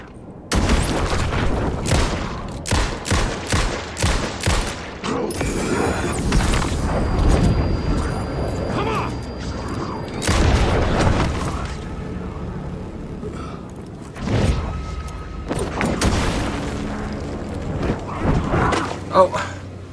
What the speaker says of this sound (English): Flash grenades don't do nearly as much as I hoped they would.